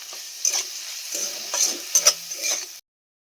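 Prawns being stirred in a pan with turmeric, salt, cumin and dried chilli, a steady sizzle broken by several distinct scraping strokes, close and fairly loud, stopping abruptly near the end.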